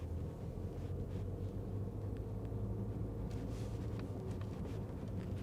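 Inside the cabin of a 2020 Porsche Carrera S on the move, a low steady road and engine rumble with faint wind hiss stays constant and subdued, with no voices.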